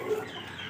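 A rooster clucks once, close and fairly loud, in a short throaty call over a steady background hum.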